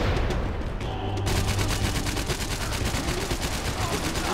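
M4 rifle fire in the Max Payne 3 multiplayer shooter on PC, rapid automatic bursts rattling steadily and loudly throughout with only a brief gap early on.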